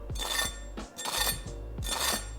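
Crisp roasted Peking duck skin crackles and crunches in three short bursts as it is tapped or scraped, close and dry, with brief pauses between.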